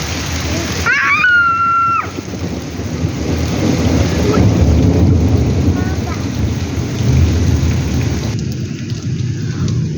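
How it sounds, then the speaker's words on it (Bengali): Heavy rain pours down with rumbling thunder, a loud continuous downpour with deep low rolls, plus a brief high warbling tone near the start. "অনেক বৃষ্টি হইতেছে, বৃষ্টিতে পুরো ঘর অন্ধকার হয়ে গেছে।"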